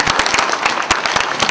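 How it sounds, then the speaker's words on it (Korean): Audience applause for the president of the Gyeonggi-do disability welfare association at a gathering: a dense crowd of clapping with sharp, irregular claps spread through the whole second and a half, loud and close. "박수 한번 부탁드립니다"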